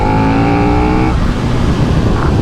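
2021 KTM 1290 Super Duke R engine pulling hard in third gear: a loud rising engine howl for about a second, then a roaring rush of wind and engine noise as speed builds.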